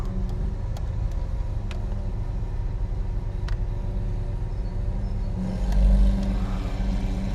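A Lamborghini Aventador in a Paris tunnel rumbles with deep, throaty exhaust noise, swelling briefly louder as the valves open near the end, with no voices over it.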